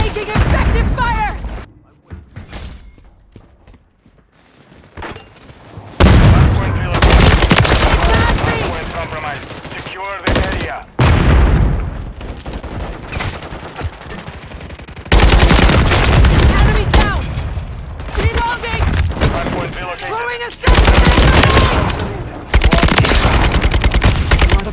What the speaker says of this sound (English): I'm reloading, taking effective fire!